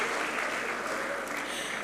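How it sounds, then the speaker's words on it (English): An audience at a formal event with a Court of Appeal justice present gives brief, continuous applause, fairly quiet and distant in the hall. "Please a round of applause for him."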